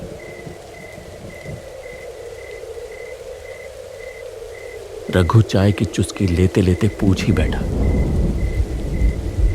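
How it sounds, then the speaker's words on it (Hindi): Steady rain patters throughout while thunder rumbles, and a voice speaks over the second half. "हल्की हल्की बारिश शुरू हो गई।"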